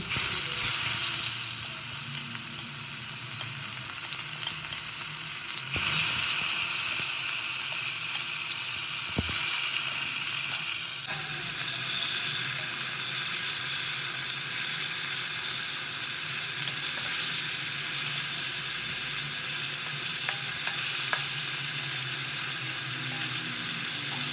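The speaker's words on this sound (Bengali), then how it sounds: "এবার আমি এই ম্যারিনেট করা মাছটাকে একটা একটা করে ভেজে নেব আমি এটা সর্ষে তেলেই করছি" Marinated fish fries in mustard oil in a pan, a continuous loud sizzle and crackle with occasional stirring clinks, close and steady throughout.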